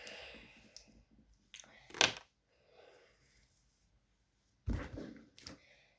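A few sharp, small clicks of a mechanical pencil spaced irregularly amid quiet rustling and handling noises, close up and faint.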